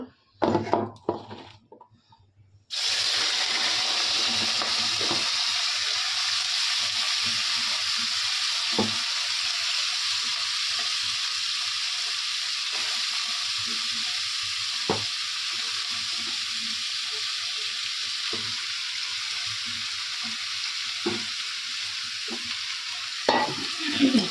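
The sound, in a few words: vegetables (capsicum, carrot, potato, onion) frying for chowmein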